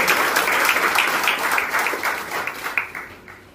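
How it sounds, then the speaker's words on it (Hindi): Loud applause fills a party membership-campaign workshop at Atal Bhawan in Silvassa: dense clapping from a large audience that stays strong, then thins into scattered claps and fades toward the end. "जोरदार ताली बजाकर"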